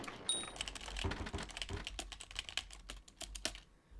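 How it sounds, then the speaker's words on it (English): Quick typing on a six-year-old computer keyboard with rattling stabilizers, a close run of crisp uneven keystrokes with clacky rattles that thins out near the end. "The rattle from my keyboard stabilizers."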